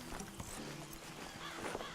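Horse hooves clip-clopping in Red Dead Redemption 2, a quick rhythmic series of soft thuds under low, busy game ambience, fairly faint.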